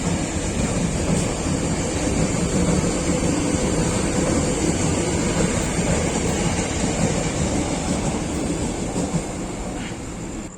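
Argo Anggrek passenger train bound for Surabaya rolling into platform 2 at Gambir station, a steady loud rumble of wheels and carriages with a faint high whine, continuous throughout.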